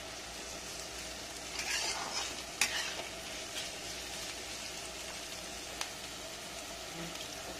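Pasta fries in a pan while being stirred, producing a soft steady sizzle with spatula scrapes and a few sharp knocks against the pan, close and fairly quiet.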